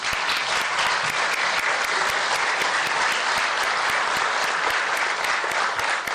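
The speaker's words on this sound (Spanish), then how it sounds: "Mi aplauso para los tres." An audience at a book presentation applauds three members of Congress, dense sustained clapping from a large crowd that holds evenly throughout with no voices on top.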